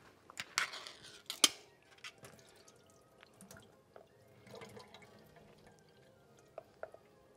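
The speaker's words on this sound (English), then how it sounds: "let's first start by taking the water out of the chickpeas and putting them in the bowl here" Water drains from chickpeas into a bowl in a kitchen, with a few splashing pours and drips at first, then quieter scattered clinks and trickles.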